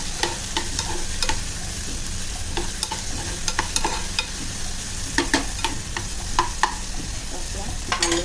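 Tomatoes and onion sautéing in a pan for a Malvani drumstick and potato curry, a steady close sizzle broken by repeated sharp clinks and scrapes of a spoon stirring, with no voices.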